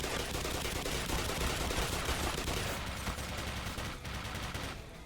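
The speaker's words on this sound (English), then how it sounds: "I will fire off 3 grenades at once" Grenade launcher in the Black Mesa video game fires off a rapid volley amid dense, loud gunfire and explosive blasts, continuous for several seconds before tapering near the end.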